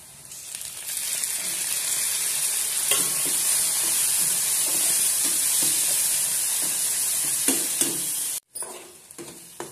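Loud, continuous sizzling of tomatoes frying in hot oil for a dal tadka, with occasional stirring scrapes, briefly cutting out near the end.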